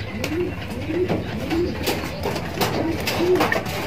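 Racing pigeons coo inside a loft in the Philippines, giving about five soft, rolling coos in an even rhythm, close by over a low background murmur.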